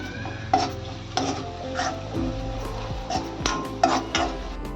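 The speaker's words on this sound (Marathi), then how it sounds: "आणि धना पावडर घालूया, अर्धा चमचा. आपण ढवळून घेऊया." A spoon stirs coriander powder into a sprouted mung bean curry in a pan, with a soft sizzle beneath and sharp metallic taps and scrapes recurring roughly every second, close up.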